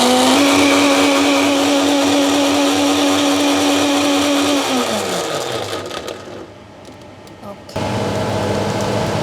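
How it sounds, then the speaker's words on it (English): A kitchen blender whirs loudly, grinding coriander root for a Thai meatball sauce. The steady motor drone sags in pitch, then cuts out, leaving quieter room sound before a fainter hum returns. "I grind coriander root and put in the sauce"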